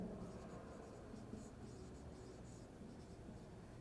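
A pen scratches across paper in a continuous, quiet stream of small strokes, with soft irregular scrapes and no pauses or voices.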